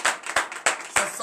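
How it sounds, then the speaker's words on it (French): A congregation applauding during a Saturday morning prayer service in Benin, with bursts of quick, close clapping in uneven groups over a short stretch. "Donne l'acclamation à sa parole."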